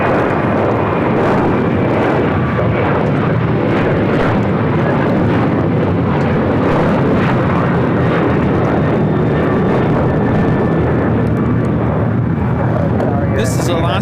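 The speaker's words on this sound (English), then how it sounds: "This is Alaska Airlines 310 taking off to Washington Dulles on a 737-900ER" An Alaska Airlines Boeing 737-900ER takes off from LAX, a loud, broad jet roar that holds steady throughout, with people talking over it.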